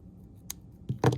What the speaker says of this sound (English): All right, so now just cut it off.